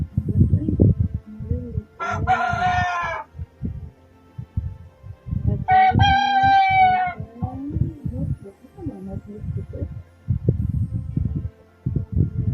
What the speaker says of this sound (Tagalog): Ang ingay talaga ng manok ko guys.